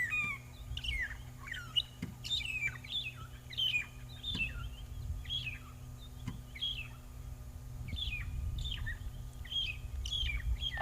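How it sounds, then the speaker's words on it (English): A magpie shrike, also called a long-tailed shrike, gives repeated clear whistles and sharp chirps in short phrases over a steady low hum of a safari vehicle, with occasional faint knocks. "this is a magpie shrike, or a long-tailed shrike"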